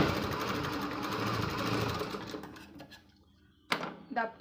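A sewing machine runs a fast, rhythmic stitching whir along a folded blouse strip, then slows and stops about halfway through, followed by near silence and a few brief handling noises.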